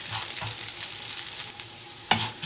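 A spoon scrapes and stirs vermicelli toasting in a pan with a pinch of salt, a soft steady sizzle under light scraping strokes and a sharper clack near the end, close and fairly quiet.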